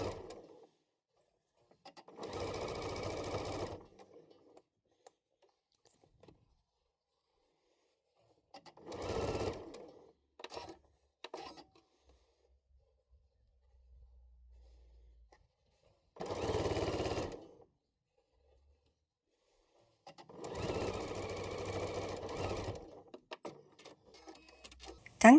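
A sewing machine stitches a hoodie's lower pocket edge to the front piece in four separate bursts of rapid, even needle chatter, each a few seconds long with quiet pauses between them.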